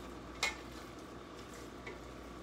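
Italian sausage meat frying in a pot over medium-high heat gives a faint, steady sizzle, with one brief scrape of a utensil early on and a softer clink later.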